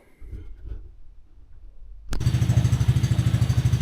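An X-Pro mini jeep engine fires up after quiet rustling and settles into a steady, pulsing idle, loud and close.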